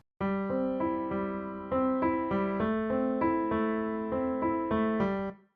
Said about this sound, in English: I loaded up a piano player, which sounds like this at first